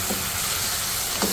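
Chicken liver (kaleji) fries in masala in a pan with a dense, steady sizzle and faint stirring, close and continuous with no talk.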